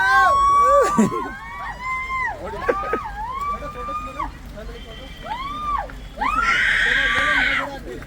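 Several people shout and yell loudly to hear the echo, in sustained, wavering calls one after another, with overlapping voices and a final long, loud group shout.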